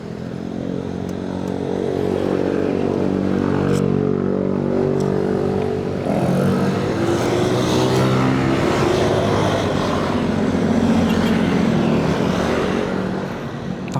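A motorcycle engine runs loudly and steadily at close range, its pitch rising and falling slightly as if revving, with no talk.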